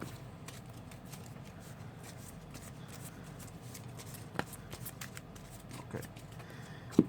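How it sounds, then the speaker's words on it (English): A Cardfight Vanguard trading card deck is shuffled by hand in a steady, soft riffling patter, close and quiet, with a couple of sharper card taps near the end. "shuffle these"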